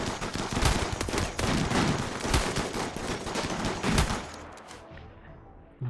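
Rapid, dense gunfire fills a RimWorld combat scene, with overlapping bursts of shots that rattle on loudly for several seconds before cutting off into near silence.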